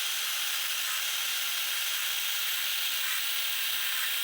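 A Festool plunge saw cuts steadily into hardwood, giving a loud, continuous, hissing whine that holds even for several seconds with no break and no voices.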